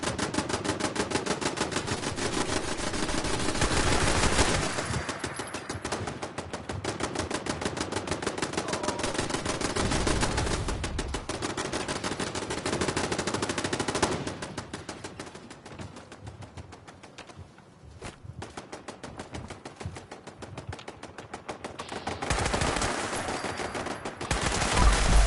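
Turret gunfire in the video game Fallout 76: loud, rapid automatic bursts rattle in long runs, easing off in the middle before picking up again, with no talking over them.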